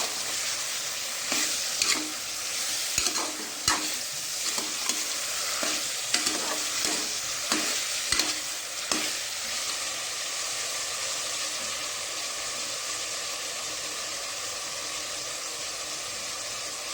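Crushed garlic and coriander-cumin powder sizzle in hot oil for undhiyu, with a spoon stirring and scraping the pan in a run of sharp clicks over the first nine seconds, then a steady frying hiss alone.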